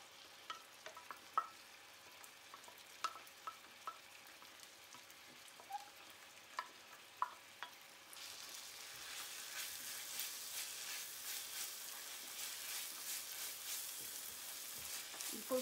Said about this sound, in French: Il faut frire 2 minutes